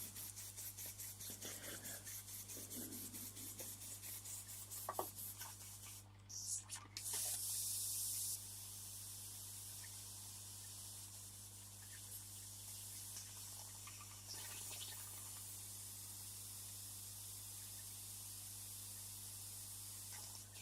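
Airbrush blowing a continuous airy hiss while being cleaned, with a louder burst partway through, steady hum throughout and faint clicks and handling noises alongside, fairly quiet overall.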